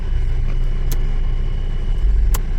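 A taxi's car engine runs with a steady low rumble at a gas station after refueling, close and continuous, with two brief sharp clicks over the drone and no talking.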